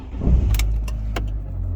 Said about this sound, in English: So we'll just dip the clutch and turn the key.